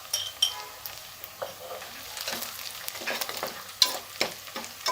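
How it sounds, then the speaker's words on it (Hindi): White cumin seeds fry in hot oil, crackling and popping in quick irregular bursts over a soft sizzle, with occasional scrapes of a spoon against the pan. The sound is close and fairly quiet, and no one talks. "एक से 2 मिनट फ्राई करेंगे।"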